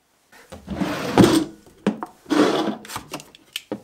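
A wooden drawer in a home is slid open and rummaged through, giving a scraping slide, a thunk and then rustling and knocking of objects being shuffled about inside, close by with no talk.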